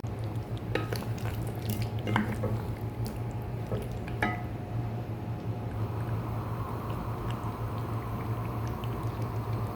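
Boiling water poured into a pot of meat and potatoes: a few early clinks and splashes, then a steady low bubbling and simmer close by, with no voices.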